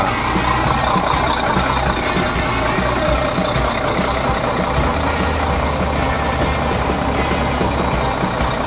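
A bus with a CP11 engine idles with its engine bay open, giving a loud, steady, close rumble that stays even throughout.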